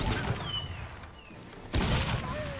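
Pistol fire in a modded Witcher video game, booming shots with a burst near the start and another loud blast just before the two-second mark, separated by a quieter gap.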